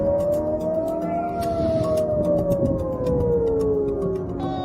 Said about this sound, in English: air sirens blared across the country